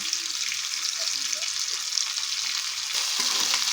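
Tomato with green chilli and ginger paste frying in a pan for a stuffed potol dish, giving a steady close hiss of sizzling oil with a few soft stirring scrapes and no talk.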